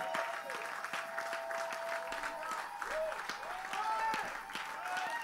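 A church congregation applauds and cheers during a worship service, steady dense clapping filling the room from start to finish, with raised voices and shouts mixed through it.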